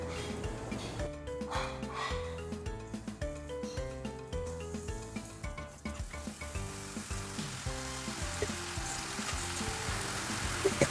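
A thick taro and sweet potato mixture sizzles in a pan over low heat while being stirred continuously, with steady rhythmic scraping and sticky squelching up close.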